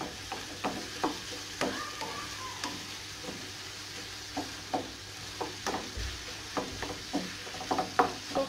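Chicken frying in a pan with thinly sliced pickled gherkins: a soft, steady sizzle under frequent light stirring clicks and scrapes, close and fairly quiet, with no voices.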